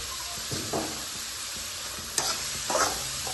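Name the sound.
sautéing vegetables in a pan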